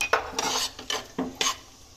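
Chopped capsicum stirred into a pan with onion, garlic and peas for oats moong dal khichdi, four or five sharp spatula scrapes and clatters in a quick rhythm, close, with a faint sizzle beneath.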